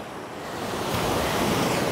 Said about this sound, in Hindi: देखें कैसी खूबसूरत मौजें आ रही हैं, कितना क्लीन पानी है देखें ये देखें ये बड़ी बड़ी आ रही है